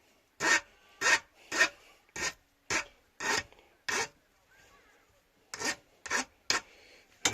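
A hand file rasps across the freshly sawn-off end of a metal part on a Honda CD175 motorcycle under restoration, nine or so distinct back-and-forth strokes in an uneven rhythm with a short pause midway, close and clear, no talking.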